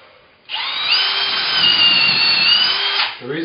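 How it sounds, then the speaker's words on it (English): A power drill drilling into a wooden ceiling whines up to a high steady pitch, runs continuously for about two and a half seconds, then winds down; close and loud. "The reason I'm backing the drill out every so often is the threads get full."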